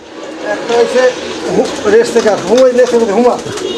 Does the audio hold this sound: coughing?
no